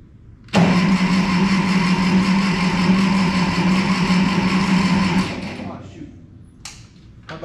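A Ferguson TO-30 tractor engine catches after a brief pause and runs loud and steady for about five seconds, then drops away, with a voice faintly under it.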